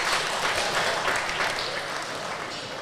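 Sustained crowd applause fills an indoor powerlifting championship venue, a dense steady clatter of many hands that tapers slightly toward the end, loud and continuous with no voices on top.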